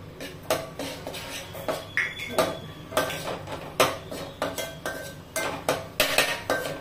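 Grated coconut and barnyard millet being dry-roasted in a pan over low heat, with a steady run of sharp, close scraping and clinking strokes from a utensil against the metal pan and no voices.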